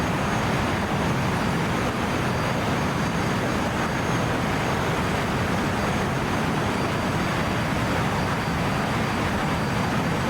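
A T-45 jet in the DCS flight game gives a loud, steady, broadband roar that stays unbroken throughout, close and without talk.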